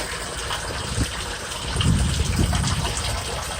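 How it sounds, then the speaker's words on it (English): Pump pushing water through a drain pit in a garage French drain, a steady, loud gushing rush of flowing water with slight surges midway. "Pumping pretty good still."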